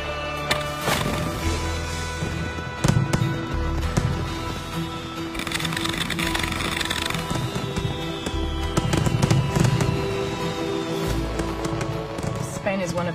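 Fireworks display at a show in Barcelona, Spain, with dense continuous crackling and booming bursts rolling through the whole stretch, loud and close, some whistling streaks overhead, and voices faintly mixed in.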